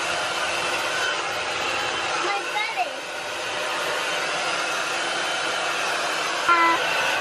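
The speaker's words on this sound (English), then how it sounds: "I honestly love this hair dryer." A hair dryer blows with a constant loud whooshing hum, close up and unbroken throughout.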